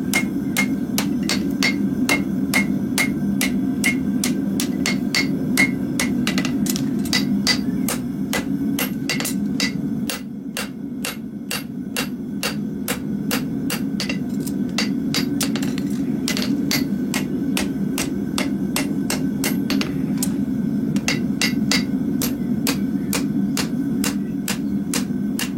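Blows of a hammer strike hot iron at a forge in a steady, rapid rhythm of sharp metallic clanks, close and loud over a low background rumble, continuing without pause.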